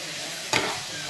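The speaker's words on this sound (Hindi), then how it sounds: "भल से मिक्स करमा टिके।" Curry with Kashmiri chili powder and spices being stirred in a pan: a steady frying hiss broken by one quick scrape of the spoon.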